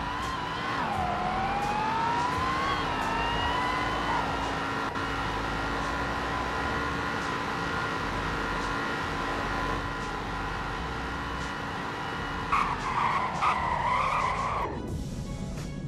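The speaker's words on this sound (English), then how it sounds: "Now here's a 0 to 100 in braking test." A car in the Roblox game Greenville accelerates from standstill to 100 with a rising, whining engine note through several gear changes, then brakes hard with a brief tire squeal and the engine dropping away, alone without talk.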